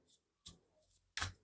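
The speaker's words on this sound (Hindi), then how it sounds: "मैं कुछ कार्ड्स हमारे व्यूअर्स के लिए भी निकालूंगी" Tarot cards are drawn and shuffled in short papery bursts, three quick riffles separated by near silence, close and soft.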